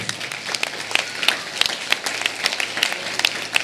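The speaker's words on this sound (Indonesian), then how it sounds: "Tepuk tangan." A church congregation at a Christmas service claps in loose, uneven applause, with many hands close and steady throughout, and no clear talking over it.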